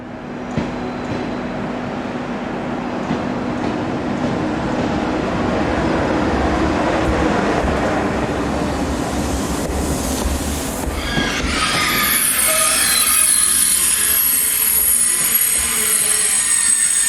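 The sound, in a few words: train running through Valenciennes station, northern France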